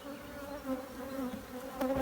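Honey bees buzz steadily around a hive frame lifted from a colony with brood, a dense, close, continuous drone with shifting pitch from many insects and no talk.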